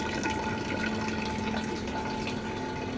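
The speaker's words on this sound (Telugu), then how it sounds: "మట్టి కుండలో పడుతున్న వాటర్" Filtered water streams into an earthen clay pot as a steady, close gurgling flow that holds even for the whole stretch.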